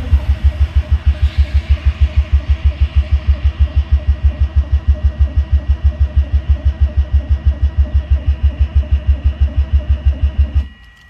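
A car engine cranks over on its starter to prime the oil, giving a loud, steady rhythmic whirring chug of even pulses for about ten seconds that stops abruptly without firing.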